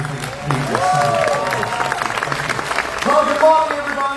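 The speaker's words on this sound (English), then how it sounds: "Keep your applause going" An audience at a show aboard a Royal Caribbean cruise ship claps and cheers, a dense round of applause under someone speaking loudly over it for most of the stretch.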